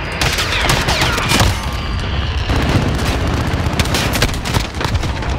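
Heavy gunfire and explosions in a Call of Duty match on the Shipment map, rapid overlapping shots and booms aimed at a VTOL aircraft, loud, dense and continuous with no talking.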